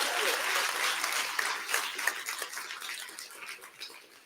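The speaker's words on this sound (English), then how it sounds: "Let's give them a round of applause for Pioneer sponsor." Conference audience applauding, a dense spread of hand claps that starts strong and tapers away over a few seconds.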